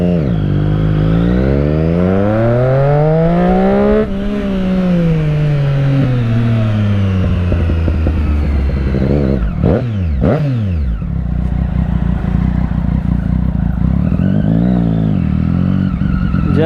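A Ducati Monster 821 motorcycle revs hard in first gear, its engine climbing in pitch through loud, repeated pulls with brief drops between them, close and continuous.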